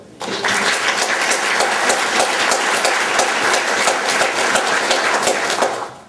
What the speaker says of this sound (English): Shall we give you another clap?